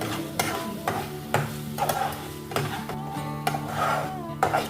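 Masala spices for dhaba-style paneer masala being stirred and fried in a pan, a steady scraping sizzle punctuated by regular rasping strokes of the spoon against the pan, close and with no one talking.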